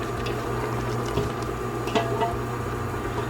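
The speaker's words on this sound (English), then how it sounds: "I'm going to let it simmer for about 4 or 5 minutes" A stew of tomatoes, onions and vegetable stock simmers steadily, a low bubbling wash with a few soft pops, heard alone.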